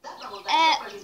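Yellow baby chicks peeping up close, a pair of short high chirps with the second louder and longer.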